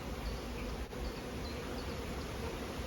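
Honey bees buzz steadily around an open hive being prepared to raise a new queen, a continuous dense hum with occasional nearer passes of individual bees, no talk.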